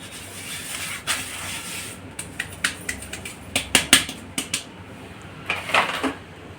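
Khoya mixture for gulab jamun pressed and rubbed by hand through a metal strainer, producing scraping, scratchy strokes in uneven bursts, close and fairly loud, with no speech.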